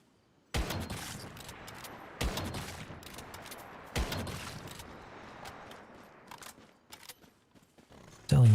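Three sharp bursts of gunfire ring out from Once Human, a survival shooter game, each followed by a decaying rattle and reverb, with scattered faint shots and clatter trailing off and a loud closing thump.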